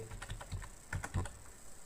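A computer keyboard clicks as a PIN code is typed, a quick run of close, light keystrokes in an uneven rhythm with no voices.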